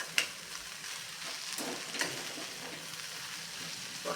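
Onions and dal sautéing in a pan give a steady sizzle, with a few scraping stirs of a spoon breaking through, moderately close and without any talk.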